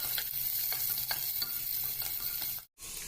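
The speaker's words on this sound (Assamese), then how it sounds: "এয়া মই মিডিয়াম ফ্লেমত অলপ পিঁয়াজ ভাজি লৈছোঁ।" Onions sizzle in oil over a medium flame, joined in the pan by bay leaf, chilli and whole cumin, with a run of quick regular spatula scrapes over a steady crackle, close up and without voices, cut by a brief silent gap near the end.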